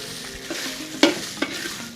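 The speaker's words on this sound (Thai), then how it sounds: "คั่วไฟอ่อนๆเนาะ เราทำน้ำพริก" Chilies dry-roasting in a pan over low heat for Thai chili paste, with a steady soft rustling hiss punctuated by a few sharp scraping stirs, close and moderately loud, no talking.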